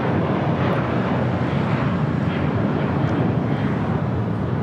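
A jet airliner takes off from runway 25 right at LAX, a steady broad roar of engines and rushing air holding at constant loudness throughout, with no voices.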